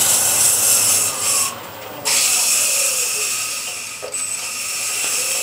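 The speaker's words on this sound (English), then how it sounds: "I'll use just a little bit of 400 grit. Just sand a little by little." A wooden tea or coffee container is sanded by hand with 400 grit sandpaper, giving continuous close rasping strokes with short pauses between passes.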